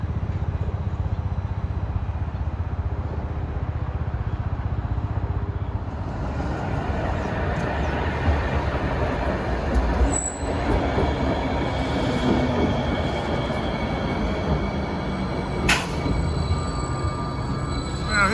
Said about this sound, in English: comes a train for 8th Street in Bayonne